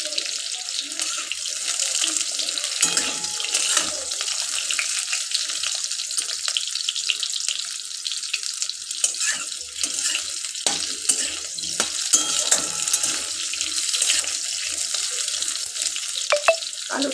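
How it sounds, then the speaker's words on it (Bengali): Steady sizzling and bubbling of potatoes frying in a pan, with faint clinks and a watery hiss throughout, no voices. "একটু ভাজার জন্য অপেক্ষা করছি"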